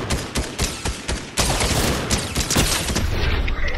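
Shotgun gunfire in Fortnite, a rapid series of sharp close blasts followed by a dense, loud burst of overlapping shots and booms.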